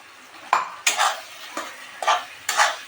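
Green pea paste being stir-fried in a kadai, with five separate scraping strokes of a spatula against the pan, each a short, crisp rasp with quiet pauses between.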